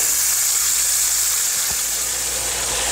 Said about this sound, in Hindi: ऑयल गर्म हो गया है, प्याज को डालेंगे।